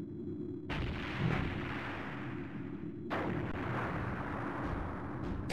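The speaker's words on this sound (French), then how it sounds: "On dirait un canon." Cannon fire in the video game Skies of Arcadia Legends booms twice at about two-second spacing, each a deep thud over a steady low rumble, with a faint, distant quality.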